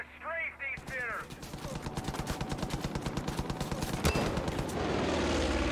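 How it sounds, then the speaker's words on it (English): Rapid, steady machine-gun fire from an aircraft strafing enemies in the video game Far Cry 5, with a long run of evenly spaced loud shots over engine drone, following a brief voice at the start. "I'm gonna strafe these sinners."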